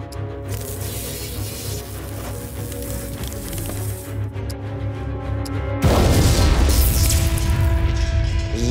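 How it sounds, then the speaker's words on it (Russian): A loud, sustained roaring blast with crackling debris swells up suddenly partway through, following a dense rumbling background; no talk. "В результате взрыва Август выжил"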